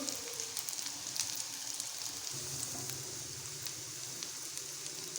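Bread cutlets made from bread and plain water frying in oil over medium heat, giving a steady, soft, close sizzle that stays even throughout with small crackling pops and no talking.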